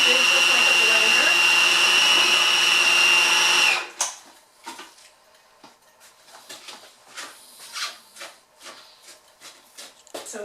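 A kitchen blender whirs loudly and steadily for about four seconds while breaking down vegetables for cultured veggies, then cuts off, leaving quieter clatter and handling noises.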